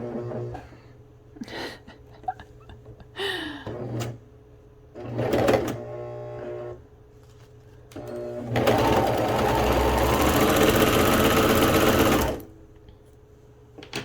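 A serger stitches fabric in short bursts, then runs steadily for about four seconds, a loud close mechanical whir with a fast rhythmic chatter, while someone talks between the bursts.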